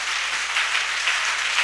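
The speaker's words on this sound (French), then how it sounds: "Acclamation." A church congregation applauding, a dense, steady wash of many hands clapping together, close and loud throughout.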